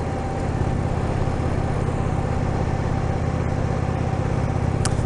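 An Indian Springfield motorcycle engine running steadily with a deep, even rumble and constant wind roar while riding, close and continuous with no talking.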